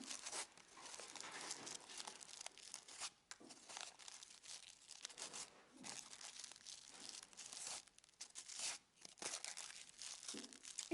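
Crepe paper crinkles and rustles almost without pause as a paper flower is wrapped around its stem, with a few short gaps between bursts of crackling.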